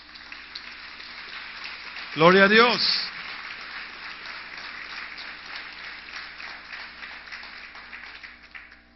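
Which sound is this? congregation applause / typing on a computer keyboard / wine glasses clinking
congregation applause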